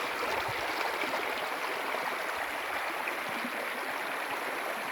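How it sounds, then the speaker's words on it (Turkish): Creek water flowing steadily near a village in Sivas, a continuous broadband rush close by with no breaks. "Yine Sivas'ın bir deresindeyiz. Köylerin deresidir burası."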